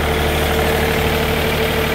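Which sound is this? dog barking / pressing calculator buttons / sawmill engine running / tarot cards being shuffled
sawmill engine running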